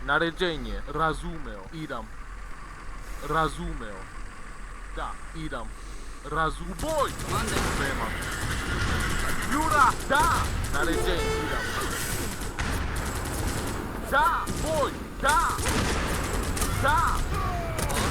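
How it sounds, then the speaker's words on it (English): Machine guns firing in an Age of Empires III Wars of Liberty battle against cavalry, with bursts of gunfire and crashes amid busy battle noise, and someone talking over it. "Those machine guns work quite good against the cavalry."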